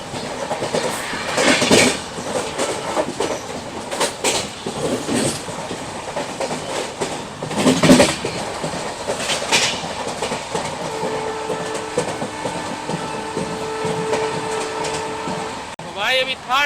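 Train crossing the dry Thar Desert, with loud clickety-clack wheel rhythm and rattling carriages, occasional metallic squeals and tonal hums later on, while a voice talks over the running train.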